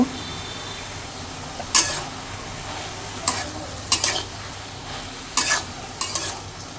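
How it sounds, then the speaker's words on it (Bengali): Vegetables seasoned with turmeric and salt stirred in a pan for a Bengali shukto, a quiet sizzle broken by several sharp scraping strokes of the spatula at irregular intervals, close by with no talking. "এখন ভালো করে নেড়েছিলাম মিশিয়ে নিব"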